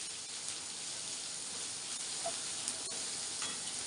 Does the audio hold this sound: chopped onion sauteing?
yes